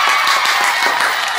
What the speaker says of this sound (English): give a big round of applause to my special guest